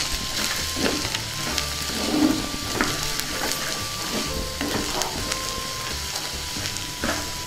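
Elephant foot yam, fried and powdered, sizzles steadily in a pan while it is stirred, with scraping strokes and crackles repeating close by and no talking.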